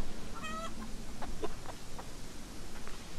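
Chickens, all roosters, in the video game Hollow Cocoon (demo) cluck and squawk in a few short calls over a steady game background hum; one louder harmonic squawk stands out near the start, followed by softer scattered clucks.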